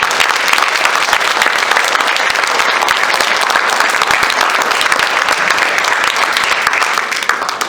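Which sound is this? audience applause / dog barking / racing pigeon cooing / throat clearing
audience applause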